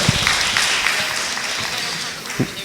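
Attendees at a community board general meeting clap to welcome new board members, a brief patter of applause with a voice briefly audible over it.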